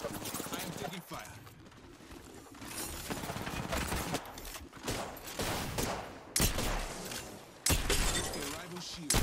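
Gunfire in the Apex Legends battle royale game: dense, loud bursts of automatic fire and clattering impacts that build in waves, with a couple of sharp louder blasts near the end and voices mixed underneath.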